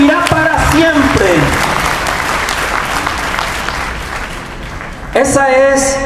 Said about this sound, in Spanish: Denle un aplauso, es Jesús.